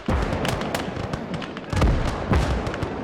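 Artillery shells exploding in the World War I video game Isonzo, a battle of Italian Alpini against Hungarians: a scatter of loud booms and crackling blasts, some near and some distant, in a continuous battlefield din.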